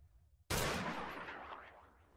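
A single loud weapon shot in the Minecraft video game, a sudden sharp blast with a long ringing tail that fades over about two seconds, heard alone with no voices.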